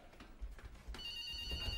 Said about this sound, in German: Irmgard, der Telefon